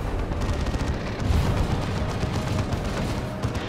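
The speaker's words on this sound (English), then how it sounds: "meanwhile over here we got Devastators opening fire" Heavy weapons fire from Devastator squads in the real-time strategy game Dawn of War II: Retribution, a dense continuous rumble of booming shots and blasts with no voices.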